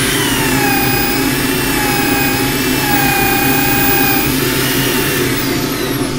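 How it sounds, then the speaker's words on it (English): Power sander working a box-elder wood bowl, a loud continuous whine with steady tonal hum and a slight pitch shift partway through, close and uninterrupted. "I'm going to just work on that little bit, I think, with the sander."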